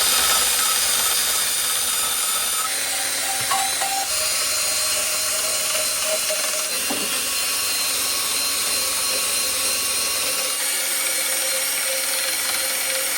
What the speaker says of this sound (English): we do need to go in here with the wire wheel, clean the inside of this up here and the two lower ones as well